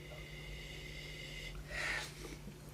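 A single close, breathy sniff of wine rises briefly over a low steady hum and faint background tones.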